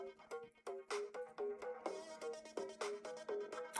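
A string of bright, tonal chime notes from a chess livestream's notification alert, rising and falling in quick melodic bursts for several seconds, loud and close with no talk over it.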